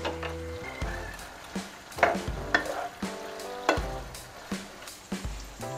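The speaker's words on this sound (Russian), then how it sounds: "И опять-таки все хорошенько перемешиваем." Turkey hearts with a clove of garlic being stirred in a frying pan, a spoon scraping in repeated strokes over a soft, steady sizzle, with background music playing throughout.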